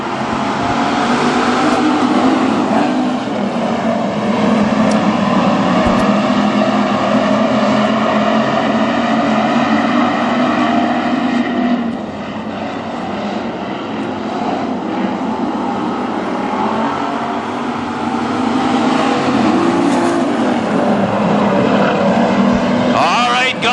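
WISSOTA street stock race cars roar around Granite City Speedway under a green flag, loud sustained engine drone with shifting layered tones that dips briefly midway, while a race announcer talks over the track noise.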